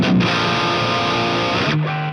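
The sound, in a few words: Mercuriall Euphoria amp plugin, structure switch on low gain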